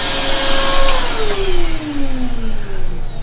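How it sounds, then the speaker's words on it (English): A household vacuum cleaner spins down after being switched off while running from a Bluetti AC200P portable power station, its motor whine gliding steadily lower and fading under a constant loud rush of air, with no voices. "the vacuum is now winding down"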